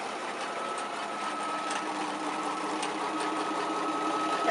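A sewing machine runs steadily through a wide satin stitch on a circle-on-square quilt block appliqué, a close, even whir with a faint rapid needle beat that holds at the same level throughout.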